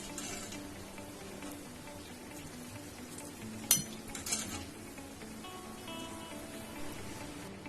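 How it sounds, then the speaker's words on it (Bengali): Boondi batter for motichoor laddu frying in hot oil, a faint steady sizzle with a few sharp clinks of a utensil against the pan partway through. "এগুলোকে কিন্তু তেলে বেশিক্ষণ ফ্রাই করব না। 1 থেকে 2 মিনিট ফ্রাই করার পর এগুলোকে আমি এরকম একটা স্ট্রেনারের উপরে তুলে নেব"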